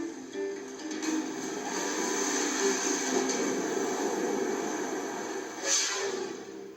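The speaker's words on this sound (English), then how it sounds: "A plane turns to make its final approach for landing." A steady, moderately loud airplane engine drone as a plane turns for its final landing approach, continuous and unchanging, with a faint rushing whine layered on top.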